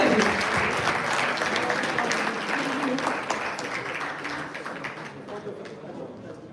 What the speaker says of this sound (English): Let's have a big round of applause for all of you